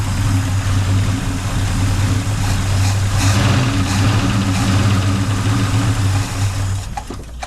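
Ford Ranchero engine with a carburetor that needs work, idling steadily and loudly up close: a continuous low rumbling drone with a faint rattle, fading slightly at the end.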